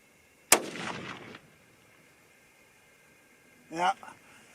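.243 Winchester rifle loaded with Ramshot powder fires one sharp, loud shot followed by a short decaying echo, and a voice speaks briefly a few seconds later.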